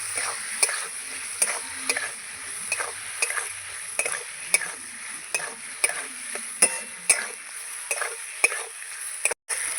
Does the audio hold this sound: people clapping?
no